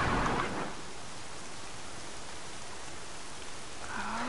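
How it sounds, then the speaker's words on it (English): Heavy, steady rain pours in Horizon Zero Dawn, a dense wash of hissing downpour that stays constant and loud, with a faint rumble near the start and end. "Raining like it's trying to wash everything away."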